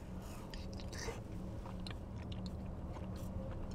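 Close, quiet crunchy biting and chewing of a Trader Joe's snack at a rest area, with irregular crisp bites over a low steady background hum.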